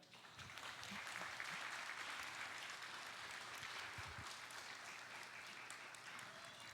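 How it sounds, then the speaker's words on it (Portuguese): A crowd claps steadily and loudly throughout, a dense sustained round of applause with a few voices faintly audible underneath. "E os adultos vão dar uma salva de palmas para vocês agora."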